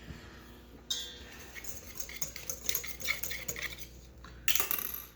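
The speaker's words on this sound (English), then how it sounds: "now we're going to whisk this together" Pumpkin cookie batter with cinnamon being whisked in a bowl, a brisk run of metal tines clinking and scraping against the bowl in quick irregular strokes, close and moderately quiet, with no talking.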